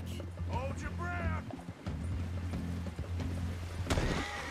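Hoofbeats clatter along with several high, shaky horse whinnies, with faint background rumble, from a galloping horse in the video game Red Dead Redemption 2.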